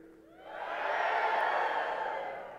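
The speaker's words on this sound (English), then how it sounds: "And you got the ability to cheer." Commencement crowd in the bleachers cheers, a broad roar of voices that rises, holds steady and then eases slightly, heard from a distance as one continuous swell.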